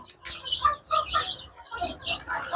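Desi chickens cluck softly and intermittently nearby while dust-bathing in soil, short murmuring calls in a loose, uneven rhythm.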